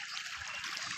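Irrigation water pours from a pipe into a wheat field, a steady close rushing trickle that fills the whole second without pause.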